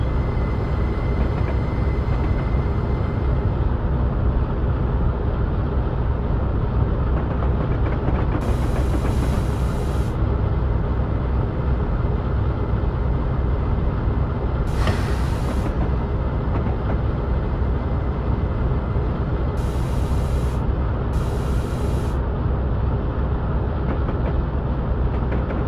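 A Class 52 Western diesel locomotive on the Riviera Line in Train Simulator 2015 rumbles steadily into the platform at Newton Abbot, a continuous low engine drone with rolling wheel noise and occasional brief hissing bursts.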